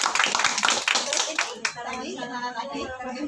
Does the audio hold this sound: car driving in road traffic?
no